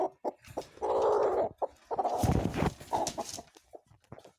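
A broody black hen ruffles up and gives a run of close, low clucks and throaty grumbles, with short bursts and pauses between them, alone without talk.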